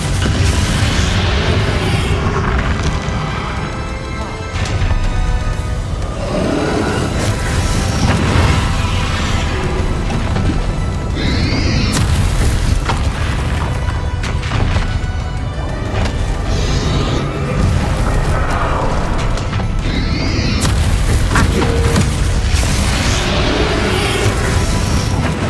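Bombarda spell explosions during a final boss fight in Hogwarts Legacy: repeated heavy booms and crashing bursts over a dense, loud layer of game music and effects, with several sharp blasts spread through the stretch.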